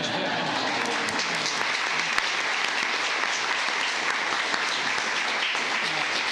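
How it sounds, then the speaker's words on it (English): A room of attendees at a county commissioners court meeting breaks into sustained applause, a dense, even wash of clapping that holds steady throughout. "you get a big round of applause"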